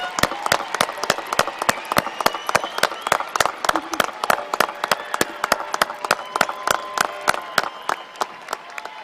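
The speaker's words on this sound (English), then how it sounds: "let's give a loud Sailor Nation applause to these amazing, amazing graduates" Sharp, evenly spaced claps ring out in a steady rhythm, a continuous round of applause from a crowd filling the space, cheering graduates at a high school commencement ceremony.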